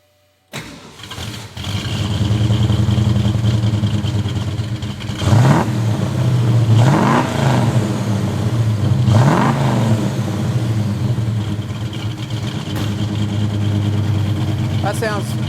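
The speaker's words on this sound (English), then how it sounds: "it's time to start it up, and wait till you hear this 390" A 1967 Mustang's fuel-injected 390 V8 cranks and catches, then settles into a loud, lumpy idle broken by several sharp throttle blips that rise and fall, heard up close with someone talking over it.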